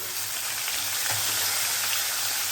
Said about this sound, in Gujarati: તેને મેં ખાંડી લીધું છે, તે ઉમેરી દઈશું અને થોડીક વાર માટે સાતળી લઈશું